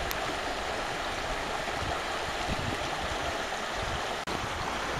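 Brook water flows steadily nearby, a continuous broadband rush and gurgle with no talk, briefly cut by a tiny dropout near the end.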